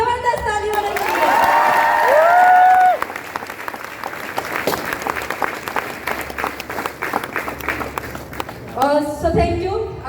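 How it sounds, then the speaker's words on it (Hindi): Audience applause at a company success-story event, a burst of clapping for several seconds under a voice, then scattered claps before a speaker resumes talking. "जबरदस्त ताली होनी चाहिए"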